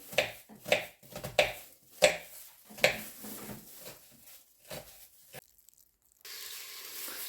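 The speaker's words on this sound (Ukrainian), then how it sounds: "Тоненько нарізаю так цибулю." Sharp, regular cuts of a knife thinly slicing an onion strike a board about once a second, fading to quiet clatter and then faint background noise.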